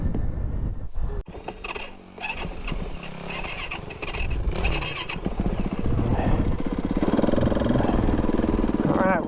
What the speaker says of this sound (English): with snow bike though, you just got to be heavy on the throttle